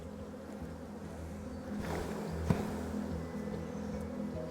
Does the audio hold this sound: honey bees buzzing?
yes